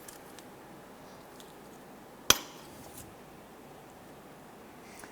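One sharp metallic tap lands on a bent-over metal tab during a left CV axle replacement on a 2007-2012 Nissan Versa. It is a single close strike standing alone in an otherwise quiet workshop.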